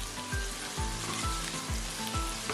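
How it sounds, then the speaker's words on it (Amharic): Chicken, bacon and tomatoes frying together in a pan for a chicken sandwich: a close, steady sizzle broken by several regular low thumps and scrapes as the food is stirred and turned, with no voices. "ቺክን በስን በጎን ቲማቲማችንን አብረን እንጠብሳለን።"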